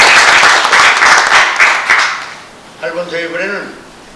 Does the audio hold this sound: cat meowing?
no